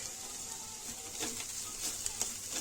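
Masala spices roasting in a pan for bhogichi bhaji, a light crackling sizzle with small pops and stirring scrapes over a soft frying hiss, close and fairly quiet.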